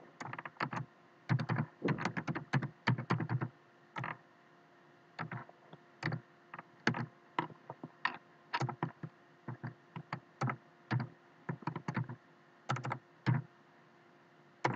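Steady clacking of fingers typing C code on a computer keyboard, close and clear, coming in quick bursts with short pauses between them, with no talking.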